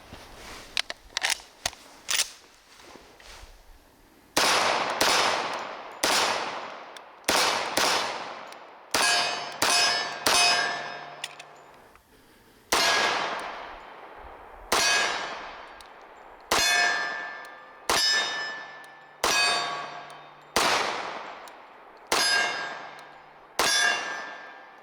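Rapid gunshots ring off steel targets at a shooting range, a long series of sharp metallic clangs with short bursts early, then steady spaced shots, each followed by a ringing decay; loud and close, with no talk.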